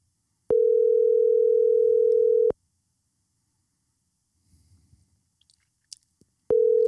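Telephone ringback tone on an outgoing call: a steady, clear two-second tone, a four-second pause with faint rustling and small clicks, then the tone starting again.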